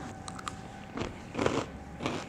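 An American crunchy snack is bitten and chewed up close, three crisp crunches spaced about half a second apart in an otherwise quiet room.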